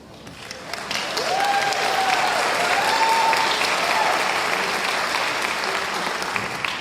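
Concert audience at a Fourth of July band concert applauding steadily and loudly, a dense wash of clapping that swells and holds for several seconds, with a faint voice or tone gliding through the middle.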